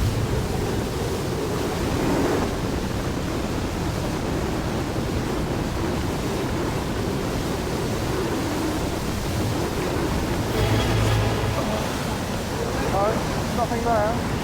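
Loud, continuous rushing river water roars close by, a dense churning surge pulling at wading legs, with faint voices briefly surfacing beneath it.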